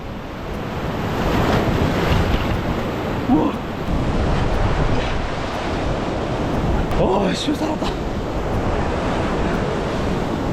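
Loud ocean surf breaks and churns continuously along the shore of an island in Brazil, with heavy wind buffeting the microphone while a person exclaims over the roar.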